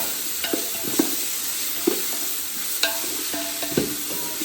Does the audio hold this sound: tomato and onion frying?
yes